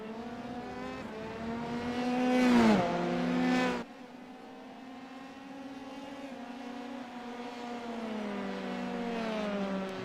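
Race cars in a racing video game charge around Monza, their engines whining loud and close with rising and falling pitch. A sharp surge and pass is followed by a steadier, slightly quieter drone, with no talk.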